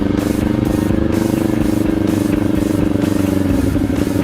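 A 2020 Kawasaki Ninja 400 rides steadily along a road near Evergreen, Colorado, its engine droning loud and close with constant wind rush and a faint rattle throughout.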